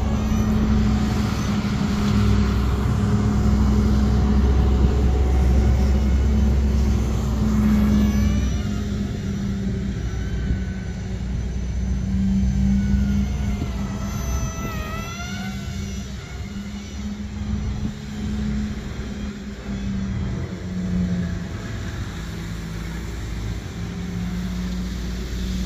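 A large BM F22 Raptor 4-channel RC plane flies at night, its electric motor giving a steady droning whine that rises and falls as it passes, holding at moderate loudness through the whole stretch with no speech.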